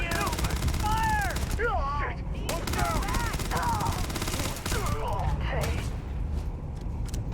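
Video game gunfire in Starfield crackles in rapid bursts amid chirping, whistling sci-fi effects, loud and continuous for several seconds with no speech.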